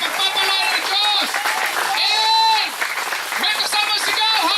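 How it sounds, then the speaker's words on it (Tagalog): Congregation at a church anniversary service applauding continuously in a large room, a dense steady wash of clapping mixed with a loud amplified voice shouting over it. "lahat ng pumapalakpak"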